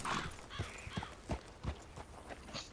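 Horse hooves clip-clopping in the Red Dead Redemption 2 video game, a handful of soft, uneven steps heard faintly at a distance, with no one talking.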